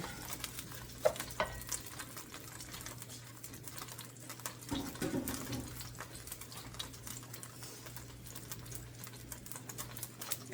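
Rice browning with aromatics in a pan for a rice pilaf, giving a soft, steady sizzle with scattered stirring scrapes and light clicks, fairly quiet throughout and without any talk.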